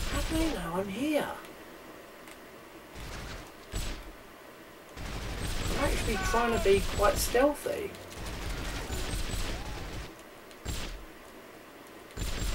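Enemy gunfire in the James Bond 007: From Russia with Love video game, with a few sharp shots scattered between stretches of someone talking over the game sounds.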